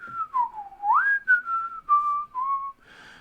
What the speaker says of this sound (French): ou bien si c'est comme ça, un sifflement.